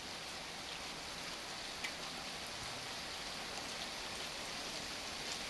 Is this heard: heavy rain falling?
yes